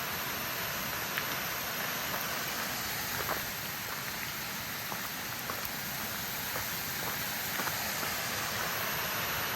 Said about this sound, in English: Cool waterfall, cool pond.